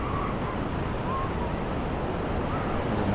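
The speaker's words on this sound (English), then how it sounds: "Look at these great waves." Ocean waves breaking on Hermosa Beach give a continuous loud roar of surf mixed with wind buffeting the microphone, steady for a few seconds with no clear talking.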